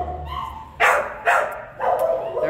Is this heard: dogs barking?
yes